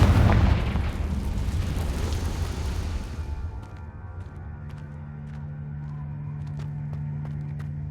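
Confringo fire spell exploding in the Hogwarts Legacy video game: a loud, rumbling blast that decays over a few seconds into a low humming game ambience with faint scattered clicks.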